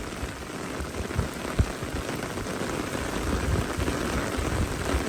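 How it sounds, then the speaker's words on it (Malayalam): A downpour during fishing roars as a loud, continuous wash of rain on surfaces, with occasional heavier drop impacts and a faint low rumble beneath. "അപ്പോൾ പൊരിഞ്ഞ മഴയാണ്."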